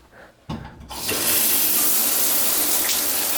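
A small shower head in a cabin bathroom in Branson starts running after a couple of clicks, then water sprays in a steady, loud, close hiss with decent pressure.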